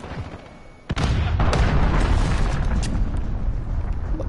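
Cruise missile strike in Call of Duty Modern Warfare: after a quiet stretch, a sudden loud blast erupts, followed by a sustained roaring rumble of debris and fire with scattered crackling bursts.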